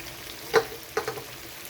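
Lote fish curry in a pan gives two short, soft sizzling hisses as green chillies are dropped in.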